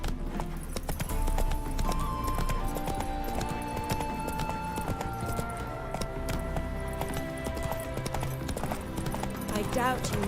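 Roach the horse gallops in Witcher 3, steady hoofbeats pounding under game music, with a whinny and a voice speaking over the run.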